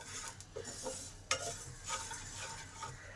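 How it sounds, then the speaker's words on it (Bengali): Cumin and coriander seeds dry-fry in a pan over low to medium heat for a mango pickle spice mix, giving soft, faint scraping stirs and a light crackle, close and quiet. "এবার জিরেটাকেও ধনের সঙ্গে ভালো করে মিশিয়ে নেব।"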